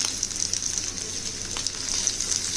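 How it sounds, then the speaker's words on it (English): Shrimp sizzle on a grill pan alongside crab, a continuous close crackling hiss with small popping spits scattered through it. "shrimp right on the grill pan to give it some smoky flavor."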